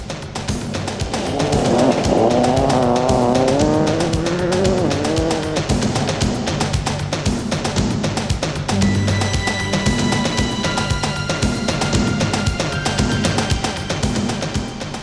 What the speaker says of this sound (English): that peace is going to be shattered by the sound of engines. Yes, rally engines.